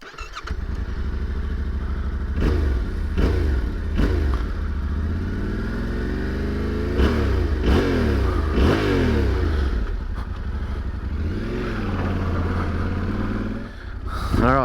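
A Yamaha Tenere 700 World Raid motorcycle starts and revs repeatedly, the engine rising and falling in pitch through several sharp throttle blips over a steady idle, loud and close, with a voice briefly over it.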